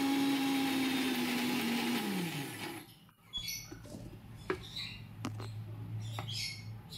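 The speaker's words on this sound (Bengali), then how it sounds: "গ্রাইন্ডারে ভালো করে ডালটাকে পেস্ট করে নেব" An electric grinder blends kalai lentils into a thick paste with no water. The motor whirs loud and close, then winds down over a few seconds, followed by quieter scattered clatter and knocks.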